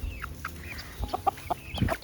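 Chickens and roosters cluck in short, scattered bursts close by, with a few brief squawks over a quiet farmyard background.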